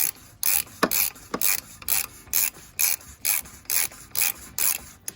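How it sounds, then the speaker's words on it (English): A socket wrench ratchets an oil drain plug loose on a 2013 Dodge Challenger V6, about a dozen quick, evenly spaced clicking strokes close up, with no talking. "And then I just use my socket wrench to take it on out."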